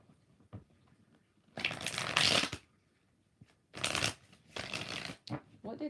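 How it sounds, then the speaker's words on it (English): Tarot cards being shuffled by hand, three bursts of riffling and rustling of varying length separated by quiet pauses, close and clear, with some talking between them. "2 more shuffles."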